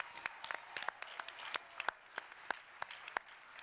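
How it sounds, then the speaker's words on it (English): Scattered clapping from a small audience at an organizing panel discussion in Chicago, sparse distinct claps spread unevenly across a few seconds, fairly faint and without talk. "So give yourselves a round of applause."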